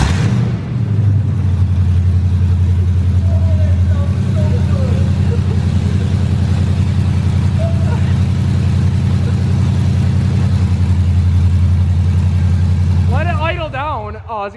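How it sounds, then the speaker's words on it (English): A car engine with an open header and no catalytic converter runs with a loud, deep, steady rumble at close range, throbbing continuously, with voices talking near the end as the engine cuts off. "So we're gonna start it open header."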